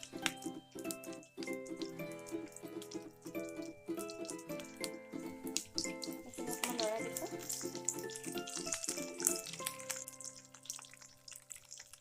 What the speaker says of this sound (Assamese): তেলখিনি মোৰ গৰম হৈ গৈছে। এতিয়া মই ইয়াত দি দিছোঁ পিঁয়াজখিনি।